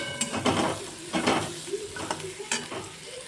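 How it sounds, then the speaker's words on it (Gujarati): Golden brown onions with salt are stirred in a sizzling pan, a steady fry punctuated by repeated scraping sweeps and clinks of the spoon against the pan. "ડુંગળી ગોલ્ડન બ્રાઉન થઈ ગઈ છે"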